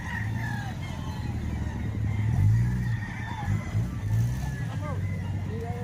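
Roosters crow and chickens cluck at a poultry market in Lipa, Batangas, several calls overlapping through a steady babble of people talking and a passing car's hum.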